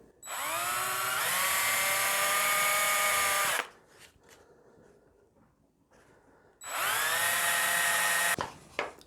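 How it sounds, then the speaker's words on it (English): Two long bursts of a whining power hand drill drilling holes in a scratch-built guitar, separated by a quiet gap with light handling sounds, the second ending abruptly. "just drill into each one of those positions"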